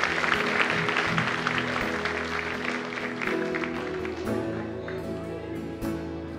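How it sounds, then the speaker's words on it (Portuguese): A church congregation claps during a family worship service, dense sustained applause filling the room over a steady background of music. "Pode aplaudir o Senhor?"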